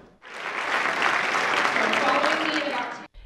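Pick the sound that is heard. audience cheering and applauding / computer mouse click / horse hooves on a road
audience cheering and applauding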